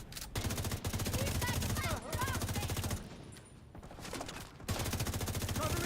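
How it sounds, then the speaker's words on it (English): Rapid game gunfire from shooting crates in a PvE shooter, dense bursts running almost continuously, easing off briefly midway before loud sustained firing returns. "shooting the crates"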